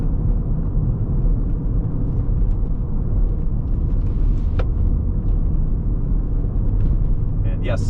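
A 1993 Lexus GS300 with 74k miles cruises along, a steady low engine and road rumble filling the cabin, with a few faint clicks and rattles over it.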